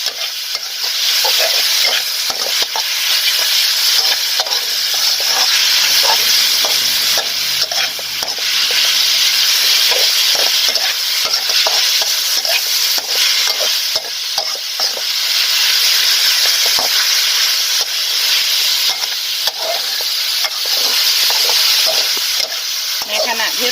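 Pork sizzles loudly in a hot pan for a Thai stir-fry of pork and Chinese kale, with constant crackling frying and repeated scraping spatula strokes throughout, close and busy.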